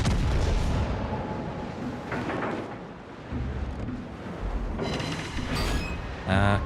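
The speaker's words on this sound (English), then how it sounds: "Pommern, you need to shoot. There we go. Pommern shot." Main guns of the battleship Pommern booming in World of Warships, a series of heavy, rumbling blasts rolling through a dense naval-battle din, with a sharper burst near the end.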